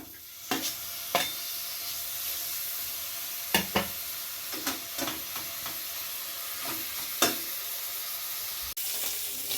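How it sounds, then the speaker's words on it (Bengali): Prawns coated in salt and turmeric fry in hot oil with a constant, soft hiss, punctuated by scattered sharp clicks of a spatula against the pan. "তেল গরম হয়ে গেছে নুন হলুদ মাখিয়ে রাখা চিংড়ি মাছগুলো ভেজে নিয়েছি"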